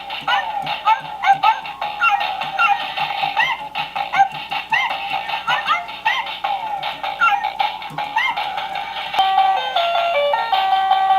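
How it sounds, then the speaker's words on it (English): A Zoomer Zuppies robotic toy puppy in music play mode gives repeated electronic yips and barks over a bouncy synthesized tune, close and fairly loud, with chirpy tones toward the end. "Tap the head for barks, press the nose to change the instruments"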